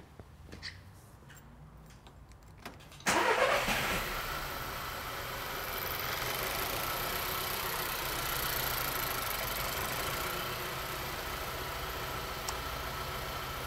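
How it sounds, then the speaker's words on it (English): A car engine cranks and catches about three seconds in, then settles into a steady, loud idle with a low mechanical hum that holds to the end, heard during compression testing. "Let's start the engine, see what we've got."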